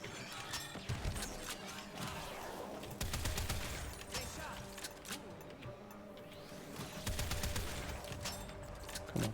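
Gunfire from a weapon in the video game Warframe, rapid bursts of shots with heavy low thumps in several waves, fairly quiet overall, with occasional game sounds between volleys.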